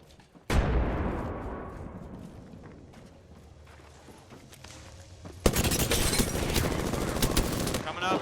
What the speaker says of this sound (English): Where I'm getting shot at.